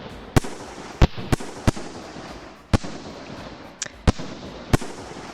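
Fireworks bursting over Tokyo, roughly nine sharp loud bangs at irregular intervals, each echoing briefly over a steady hiss of distant crackle and background noise.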